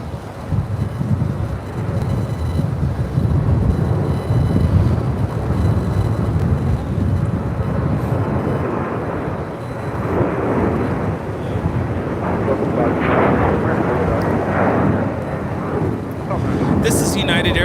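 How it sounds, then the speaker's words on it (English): A United Airlines Boeing 737-800 takes off at LAX, a broad continuous jet roar rumbling steadily for the whole stretch, with a voice talking over it. "This is United Airlines 678 taking off to Cleveland on the 737-800"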